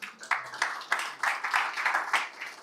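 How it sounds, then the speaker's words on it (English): Audience clapping for a volunteer at a live-streamed talk on AI reasoning and context engineering, a fairly light patter of claps over about three seconds, mid-distance and modest in volume. "Everybody give a round of applause for Greg Dixon."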